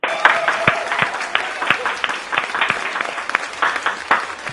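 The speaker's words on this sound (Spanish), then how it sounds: "Un fuerte aplauso para él." A studio audience on a Peruvian Saturday television programme gives a short burst of applause, dense clapping holding steady for a few seconds at close range with no voices over it.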